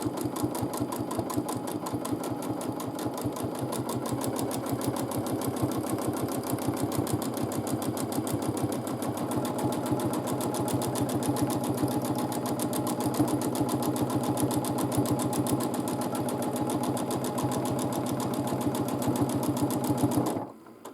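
A domestic sewing machine quilts a large quilt with a fast, even needle rattle and a motor hum running nonstop for about twenty seconds, then stops abruptly.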